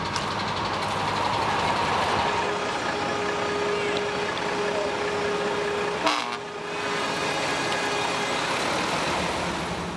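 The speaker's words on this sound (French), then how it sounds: "Les camions finissent par s'arrêter." Heavy trucks coming to a stop near Calais, a loud continuous rumble of engines and traffic with a brief sharp burst midway and a horn-like tone running through.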